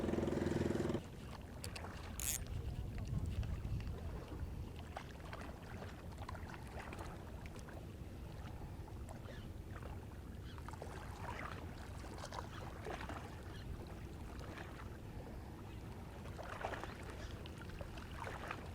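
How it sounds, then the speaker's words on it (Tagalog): A bangka boat passes close by while lure fishing in Bolinao, its low hum and water wash rising briefly above a steady outdoor background, with no talking. "dito pa dumaan yung bangka naman sa tabi ko"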